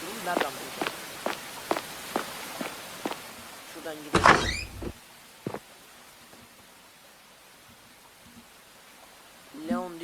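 A door swings open in the Roblox horror game The Mimic, a brief creaking burst following a run of steady in-game footsteps, with quiet ambience afterward and more steps near the end.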